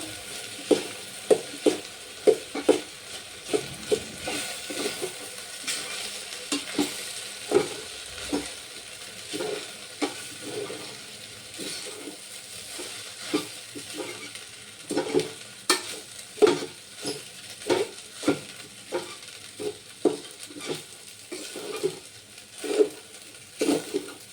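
A spoon scrapes and stirs vegetable rice in a hot pan, giving repeated irregular scraping strokes over a soft, steady sizzle; it is fairly quiet and close, with no talking.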